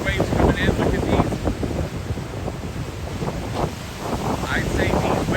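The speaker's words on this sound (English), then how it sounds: "These waves here, look at these waves coming in" Ocean waves roll in and break along the Miami shore during Hurricane Ian, a steady, heavy wash of surf buried under loud gusting wind buffeting the microphone, with a voice faintly present.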